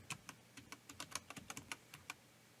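Rapid tapping on a computer keyboard, close and quiet, a dozen or so uneven keystrokes over a couple of seconds with no voices.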